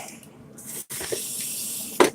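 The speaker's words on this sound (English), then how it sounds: "Now, I can add a little bit more water to this." A little water poured into drywall patching compound during a wall repair, heard as a soft hissing, spray-like splash that rises briefly near the end, close by and with no talking.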